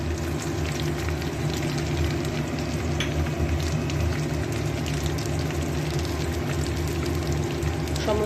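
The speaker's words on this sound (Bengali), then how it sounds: "এবার দিয়ে দেবো একটু সাদা জিরে ফোড়ন" White cumin seeds sizzle in hot oil as a tempering for a vegetarian pointed gourd dish, a dense, steady crackle and hiss that keeps on without a break.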